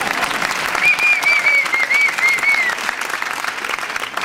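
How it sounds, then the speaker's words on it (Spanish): Sustained audience applause fills a hall at a stage presentation, dense and steady for about four seconds, with a faint whistle-like tone drifting above the clapping. "claro que dan otro aplauso"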